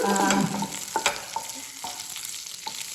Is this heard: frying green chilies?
yes